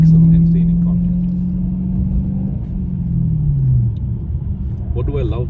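A Dodge Challenger Scat Pack with a 6.4-liter V8 drives along, a deep loud engine rumble holding a steady low tone then dipping in pitch as it eases off, with a brief higher whine near the end.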